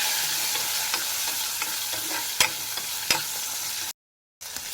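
Green chillies frying in a pan for aanapakaya (bottle gourd) chutney, a steady close sizzle with a few sharp stirring clicks and a brief dropout near the end.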